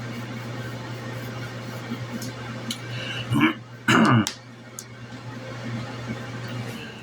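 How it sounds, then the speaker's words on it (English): Someone clears their throat in two short, harsh bursts over a quiet room with a low background hum. "had to clear my throat"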